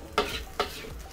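Egg fried rice, Shanghainese style with egg white and yolk, stirred in a hot wok, giving two sharp scraping strokes over a steady sizzle, close and alone.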